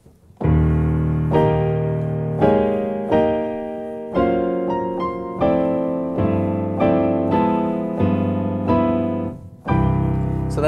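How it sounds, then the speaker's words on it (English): Kawai K300 Aures hybrid upright piano playing its electronic tone through the soundboard: a steady sequence of sustained chords and notes, each struck clearly and decaying, close and full, with no talking. "That is the electronic sound being transduced through the soundboard"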